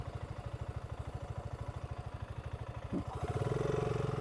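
A 2025 BSA Gold Star motorcycle engine runs steadily at close range with an even, thumping idle pulse, then rises to a louder, deeper drone near the end as it is opened up.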